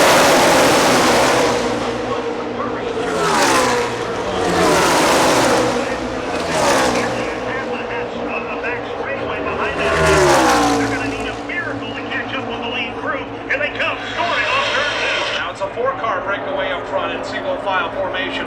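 NASCAR stock cars roar past the grandstand in repeated loud waves during the closing laps of the 2012 Good Sam 500, engines swelling and fading over a constant crowd-level din, with an announcer talking over the noise.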